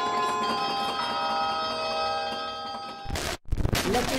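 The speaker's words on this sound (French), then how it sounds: "on fait une initiation au carillon" Carillon bells ring out in a sustained, resonant chord of overlapping tones during an introductory carillon lesson at a school, and the ringing cuts off into a few seconds of louder, noisy clatter near the end.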